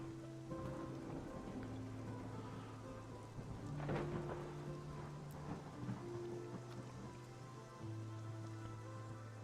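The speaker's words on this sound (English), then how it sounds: "It's a dust storm. The dust storms in the game get a little gnarly." A dust storm in the video game Monsters & Memories: a steady rushing, rumbling roar with a louder swell midway, under sustained low musical tones and without speech.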